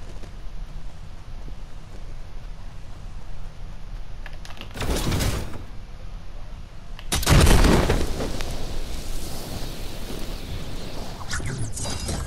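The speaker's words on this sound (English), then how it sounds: "Okay, I'll use the cannon." In the Fortnite video game, a cannon fires with two loud broadband blasts, a short one and then a bigger, longer explosion, over steady game ambience and background hum.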